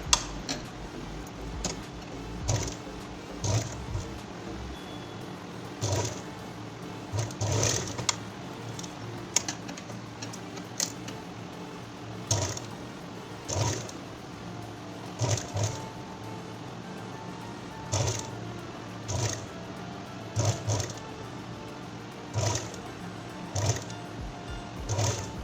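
A sewing machine stitches gathers into fabric in short, separate bursts of rapid ticking, each lasting about a second, with quiet pauses between them, close and moderately soft.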